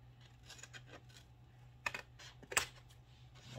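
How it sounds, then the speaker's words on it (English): Scissors cut paper trimmings for a handmade decorative envelope, giving a few quiet, sharp snips and rustles, with two clearer cuts close together near the end. "just take your scissors and just cut whatever's hanging off there"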